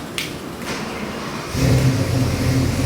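A 347 cubic-inch small-block Ford stroker V8 crate engine, bound for a 1965 Ford Mustang, cranks and fires up on a dyno, settling into a loud, steady, rumbling idle after a quieter opening.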